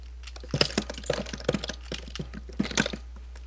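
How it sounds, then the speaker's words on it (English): Quiet clicking of typing on a computer keyboard, irregular bursts of keystrokes at close range over a low steady hum. "I hear you typing."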